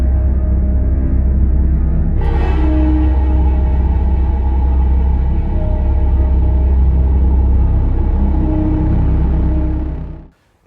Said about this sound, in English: this area right now is really busy. There's just cars up and down here.